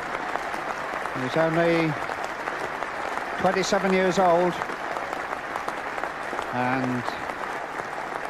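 A large cricket crowd at Lord's in 1982 gives sustained, steady applause as a batsman walks off after a double century, with a commentator speaking over it.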